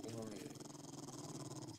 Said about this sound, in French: y a un chien, y a un chien